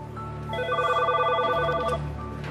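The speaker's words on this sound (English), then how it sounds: "Officer Freeman gets a phone call" A telephone rings in a prison's direct supervision housing pod office, a repeated electronic trill sounding in two bursts over steady low background hum, close and clear with no talking.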